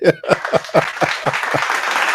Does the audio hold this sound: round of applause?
yes